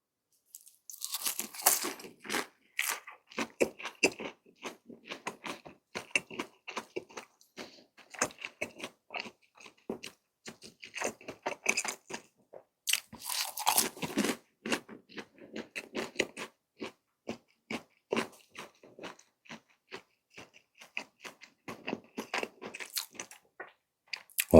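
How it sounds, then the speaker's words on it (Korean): A crispy spicy Buldak cheese stick bitten and chewed up close, with repeated loud crunches and crackles in an uneven rhythm across the whole stretch, separated by short quiet pauses and with no talking. "치즈 스틱 먼저 먹어볼게요"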